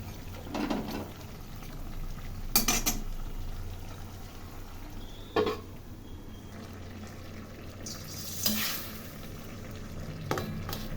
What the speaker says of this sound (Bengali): লো ফ্লেমে কিছুক্ষণ রান্না করে নেব।